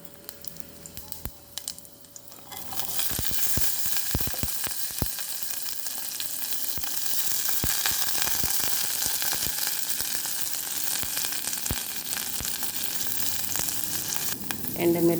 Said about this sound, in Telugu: పోపు వేసుకుంటున్నానండి.